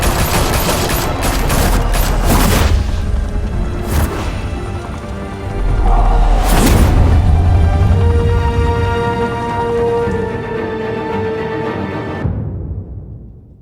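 Sustained gunfire in Batman: The Telltale Series, with dense volleys of shots, bursts of crashing impacts and several loud surges that run for most of the stretch before cutting off abruptly near the end.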